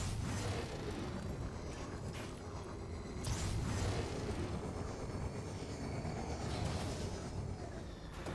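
HC-XD drone launching in the Black Ops 3 video game, a steady, loud whooshing engine roar that swells and fades slightly across the stretch, with no speech.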